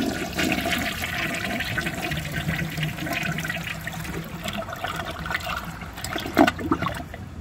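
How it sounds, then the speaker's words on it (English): A Kohler toilet flushing, with loud rushing water throughout and a gurgling surge near the end as the bowl drains and refills. "so the Kohler is the closest I'm going to get that actually works. So anyway, let's give this a flush and see how it does on tests."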